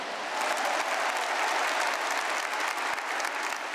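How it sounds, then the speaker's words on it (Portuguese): Sustained applause from a crowd at a Catholic gathering honouring the Canção Nova community, steady dense clapping that holds at an even level throughout without a break. "Quero saudar Padre Wagner, Padre Donizete, uma salva de palmas à família Canção Nova."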